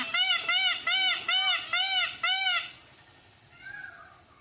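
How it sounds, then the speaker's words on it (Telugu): Peacocks in a park give six loud, evenly spaced honking calls close by, then go quiet. A fainter, more distant call follows near the end. "ఇక్కడ దాదాపు ఒక 20 to 30 నెమళ్ళు అయితే ఉన్నాయండి."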